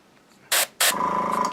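An airbrush sprays paint during miniature rust weathering, two sharp hissing bursts close by: a short puff, a brief pause, then a longer sustained hiss.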